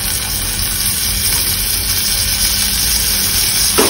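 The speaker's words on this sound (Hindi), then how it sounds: "ऑनियन फ्राई कर रही हूँ यहाँ पे" Onions frying in a pan give a steady, loud, close sizzle that holds for a few seconds with no talk.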